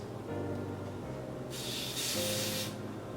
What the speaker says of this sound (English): I'm going to take my EBN Wonder Lace Bond, and I'm going to spray it on the edge of the lace.